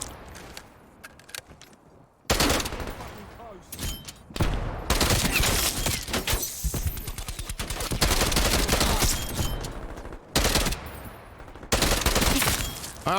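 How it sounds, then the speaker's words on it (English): Bursts of rapid gunfire from a burst-fire Tech 9 in Call of Duty Cold War on the Nuketown map, loud dense volleys separated by brief pauses, with game effects between them. "I honestly didn't know that this was a burst Tech 9 until I shot it"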